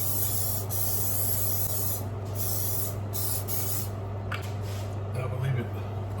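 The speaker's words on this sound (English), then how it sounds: "You can get some olive oil. And just give it a spray right on top of it." Steady hissing spray of olive oil misted over a baking dish of spicy mac and cheese before it returns to the oven, close and continuous with a few short bursts over a constant hum.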